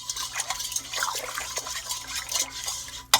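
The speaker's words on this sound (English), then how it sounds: "add my tablespoon of sugar to my 3 cups of warm water. I'm going to give this a mix." A spoon stirs a tablespoon of sugar into three cups of warm water for pizza dough, making a steady soft swishing with a bright clink of utensil against the bowl near the end.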